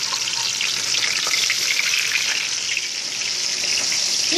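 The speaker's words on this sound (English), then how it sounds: "We're turning the lobster now that they're golden brown." Lobster pieces fry golden brown in a pan with a loud, dense, even hiss of hot oil that holds steady throughout, close by and with no voices.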